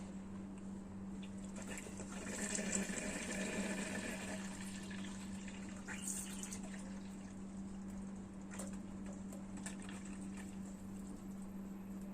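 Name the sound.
boiled water poured onto soybeans for making tempeh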